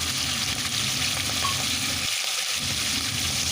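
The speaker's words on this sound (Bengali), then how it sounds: "আর এখন চিংড়ি মাছগুলো দিয়ে চিংড়ি মাছটাকে আমি একটু ভেজে নেবো" Prawns frying in a generous amount of hot oil in a wok, a steady close sizzle that runs continuously with a brief dip in the low rumble partway through.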